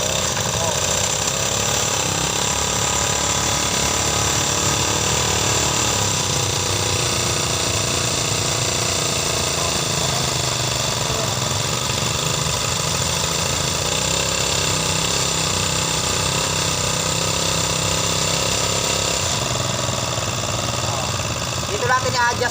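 A gas grass cutter's small engine runs continuously while its idle is adjusted, the engine still cold; a buzzy, rattling drone holds steady and close with slight speed shifts, and someone talks over it.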